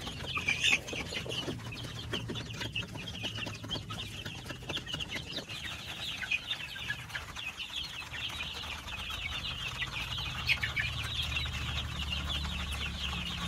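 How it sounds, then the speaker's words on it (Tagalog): Six-week-old Dekalb White layer chicks in a poultry house, a steady crowd of high peeping and chirping cheeps with some rustling and fluttering, constant throughout. "Nandito ako sa aking manukan. Sisiwan pala. Kasi sisiw pa lang sila."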